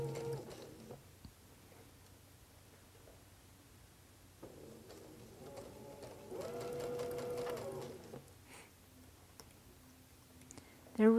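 A sewing machine stitches quilt fabric in short, quiet bursts of rapid clicking, with one longer, louder run of stitching partway through and handling rustle in the pauses.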